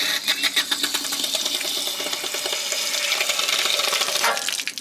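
An RV water heater tank fills with water, a continuous rushing and gurgling flow close by with faint fluttering pulses, steady throughout with no talk.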